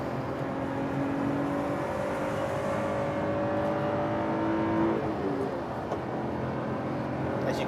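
A Lotus sports car engine pulls hard under acceleration, its note rising steadily through the gears with a continuous, fairly loud drone heard from inside the car and no talking.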